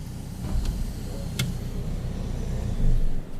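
A 2020 MINI John Cooper Works GP with a 2.0-litre turbocharged petrol engine idles steadily nearby, a low continuous rumble with a brief rise in level near the end.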